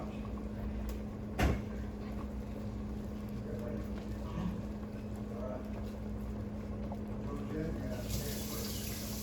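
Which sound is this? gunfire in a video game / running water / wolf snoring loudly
running water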